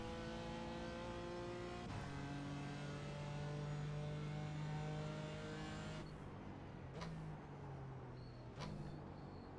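A BMW M4 GT4 race car engine at Silverstone, held at steady high revs with a strong harmonic drone, then gear changes and rev drops with short clicks, close and loud throughout.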